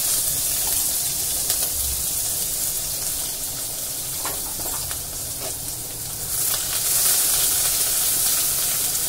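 Chopped onion with green chillies and curry leaves sautéing in hot oil in a pan, a steady close sizzle and hiss with faint stirring, no voices.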